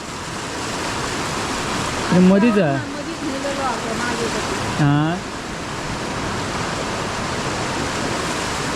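Rushing water roars steadily after a sudden heavy downpour in Konkan, a broad, continuous wash close by, with a voice briefly speaking over it twice.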